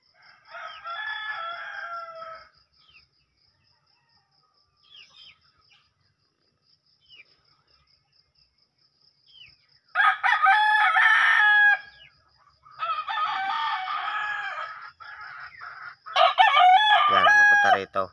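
A rooster crowing nearby, one call early on, then after a quiet stretch three long, loud crows in close succession, with faint insect chirping in the background.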